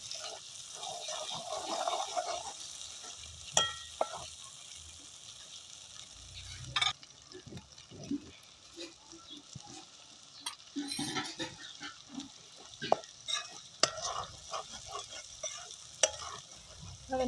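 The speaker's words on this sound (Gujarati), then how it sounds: "હવે આને તેલમાં પાકી જાય પછી રીંગણા નાખવાના છે।" Stuffed brinjals for a Gujarati bharela ringna curry fry in hot oil with a steady close sizzle, broken by repeated scraping stirs and sharp spoon knocks against the pan; no one speaks.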